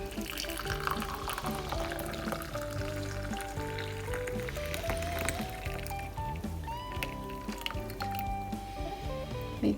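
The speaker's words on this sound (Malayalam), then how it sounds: "നമുക്കിതൊന്ന് അരിച്ചൊഴിക്കാം." Boiled cumin and mustard water is strained into a glass, giving a soft, close trickle and pour with gurgling and dripping that goes on steadily with small splashes.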